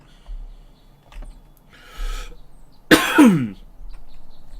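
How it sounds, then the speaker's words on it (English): One sharp, loud cough from a cold with a rough throat-clearing rasp, preceded by quieter rustles and a brief breathy noise, in an otherwise quiet room. "sorry for the coughing"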